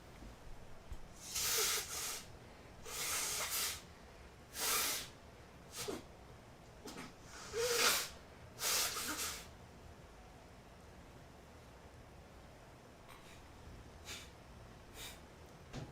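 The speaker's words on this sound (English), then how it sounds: "I'm gonna try and blow my nose one more time." A person with sniffles blowing their nose several times, a series of short, close, breathy honking blasts in irregular bursts, followed by a few faint sniffs, with no talk.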